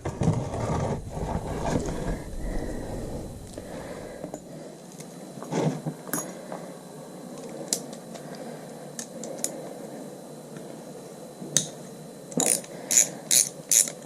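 Ratchet clicking while a sump plug is undone on a 2017 Royal Enfield motorcycle engine during an oil change: rapid, close metallic pawl ticks in short bursts, with quieter ticking and fiddling between the bursts.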